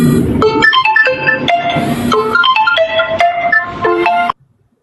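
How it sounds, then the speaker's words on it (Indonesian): An incoming call sets off a loud, close phone ringtone: a bright, melodic electronic tune of quick stepped notes that plays for a few seconds and then cuts off abruptly. "Aduh, ada telepon."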